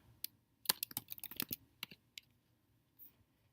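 Short burst of keystrokes on a computer keyboard during a search in Adobe Spark, a quick cluster of clicks followed by a few isolated taps and one faint late press, close and fairly quiet with no talking.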